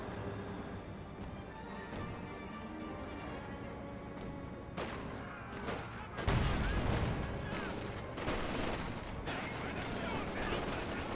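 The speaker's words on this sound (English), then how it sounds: "Panzerwerfer barrage running on in" Panzerwerfer rocket barrage in Company of Heroes 2 lands amid ongoing battle noise, a dense rumble of repeated blasts and crackling gunfire that swells louder partway through and stays heavy to the end.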